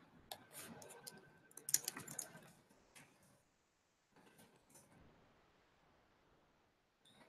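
Typing on a computer keyboard during an online group video call, a quick run of close, crisp key clicks and taps, pausing, then a few softer, sparser keystrokes.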